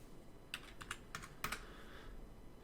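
Quiet keystrokes on a computer keyboard, a short run of a few taps and one firmer press like hitting enter, close and alone.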